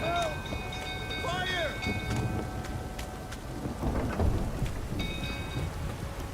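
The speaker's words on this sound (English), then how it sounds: "The storm, damn it." Rain and rolling thunder from a thunderstorm in The Witcher 3 on PC: steady dense downpour with low rumbles swelling near the end, while musical tones and brief voices sit over the storm.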